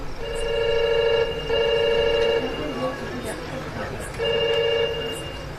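A telephone rings in repeated electronic bursts, about three rings separated by short pauses, loud and close, with faint room noise between them.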